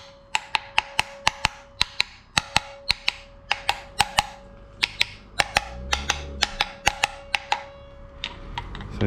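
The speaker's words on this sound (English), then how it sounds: "hammer it a little bit, very slowly, carefully." Light hammer taps seating a cover onto a BMW N55 engine during a rebuild, many sharp, close, fairly even knocks in a steady series with no talk.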